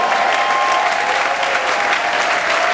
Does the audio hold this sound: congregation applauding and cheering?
yes